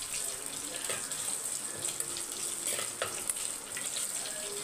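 Garlic sautéing in a pan gives a soft, steady sizzle close by, with faint clinks of stirring and a light watery background hiss; quiet overall and no speech.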